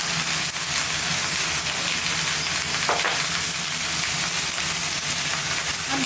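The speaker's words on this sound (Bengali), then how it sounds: "একসাথে ভালো করে কষে নেব।" Fish eggs and pumpkin stalks sautéing in a pan with oil, turmeric and salt, giving a steady close sizzle and frying crackle throughout, with faint stirring scrapes and no voices.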